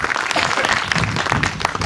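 A village audience at a street play claps together, a dense, steady burst of applause that stays loud throughout the short moment.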